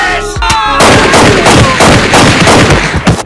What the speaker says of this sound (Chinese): 大黄蛇皮走位躲避子弹